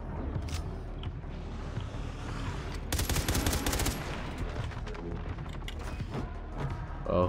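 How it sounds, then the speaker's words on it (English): Rapid enemy gunfire in Far Cry 3: Blood Dragon, a dense burst of shots crackling for about a second mid-clip over steady game noise and rumble. "Oh, he's shooting."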